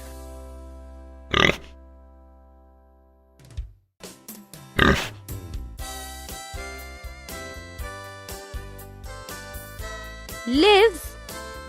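Pig oinking in short, loud snorting bursts, one near the start, one a few seconds later and one near the end, set against a light music track.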